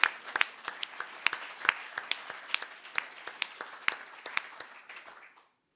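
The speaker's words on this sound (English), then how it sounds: "Give yourselves a round of applause" A small concert audience claps in a sparse, uneven patter of distinct handclaps, fairly quiet, that thins out and stops abruptly near the end.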